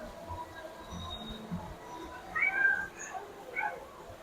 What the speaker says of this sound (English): you can actually hear the cats meowing in the pet shop up here.